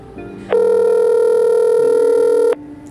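A phone tone sounds while calling an Uber Moto driver: one steady, loud, harmonic-rich tone lasting about two seconds, preceded by a quiet line hum.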